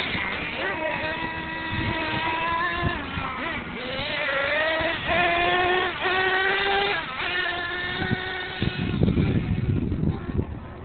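Small RC monster truck whining with a high electric motor pitch that rises and falls with throttle, close by, under a running conversation and with rough rumble near the end.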